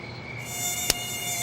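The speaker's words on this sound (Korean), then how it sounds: "이놈의 모기, 이거" High thin whine of a mosquito buzzing close by at a night campsite, steady and continuous with a brief sharp click partway through.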